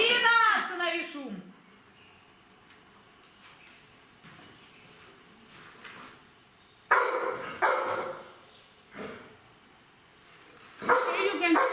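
A dog at an IPO-R rescue dog competition barks and yips in short, scattered bursts, with longer loud barking near the start and end and a few quieter whimpers between; a person speaks over some of it.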